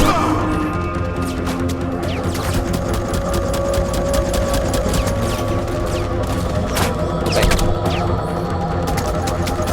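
Gunfire in the video game Firefall comes as loud, dense bursts of rapid shots and impacts. They continue almost without a break, with someone talking over them.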